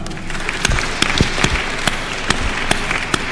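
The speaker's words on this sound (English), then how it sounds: "Again, let's clap for her." A university graduation crowd applauds a top-performing graduate, sustained many-handed clapping with a few sharper individual claps standing out near the front, steady and fairly loud throughout.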